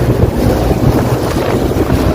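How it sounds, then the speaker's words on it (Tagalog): Strong headwind roaring across the microphone while cycling on a long road ride near Sariaya, Quezon, a steady, loud low buffeting rush that fills the whole moment with no voices. "Mahirap din pagpasalubong ang hangin."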